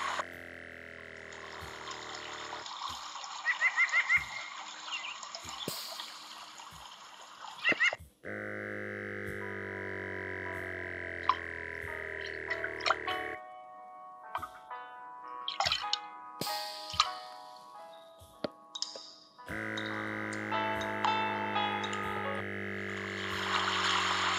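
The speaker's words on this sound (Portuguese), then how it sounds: "ele começa a tocar uma musiquinha assim, tipo de água." An SKG electromagnetic eye and neck massager plays a relaxing water-like tune from its built-in speakers, layered tonal chimes and drip-like notes in repeating sections with brief gaps and small clicks, moderately loud and close.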